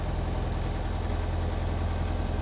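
Xenos motorglider engine idling steadily before a run-up, a continuous low droning hum that stays even and close throughout with no talk.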